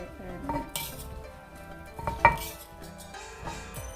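Northern Thai pomelo salad is pounded and tossed in a mortar, giving irregular close clinks, knocks and scraping of a pestle and utensils.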